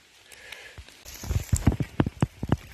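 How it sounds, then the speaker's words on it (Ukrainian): Rain falling in a forest while a person walks downhill, with soft irregular drips and patters that grow into louder close thuds and splashes, no talking. "дощ уже зменшив, не такий лиє"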